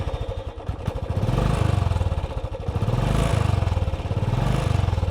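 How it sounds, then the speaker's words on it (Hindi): Royal Enfield Classic 350 motorcycle, ten years old, with its single-cylinder engine starting up and settling into a steady, thumping idle, loud and close, with no talk over it. "इसको जस्ट यहाँ पे प्रेस किया और आपकी बाइक स्टार्ट हो गई"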